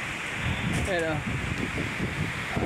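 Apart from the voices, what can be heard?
strong cold wind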